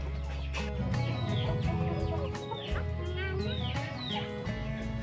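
Chickens cluck and chatter steadily in a farmyard where chickens and ducks are being fed, a close, dense layer of bird calls that runs throughout.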